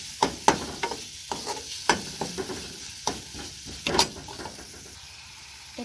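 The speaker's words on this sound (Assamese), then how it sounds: "1 মিনিটৰ কাৰণে ভাজিম।" Jackfruit seeds and vegetables fry in a pan with a low sizzle, broken by sharp, irregular scrapes and knocks of stirring close by.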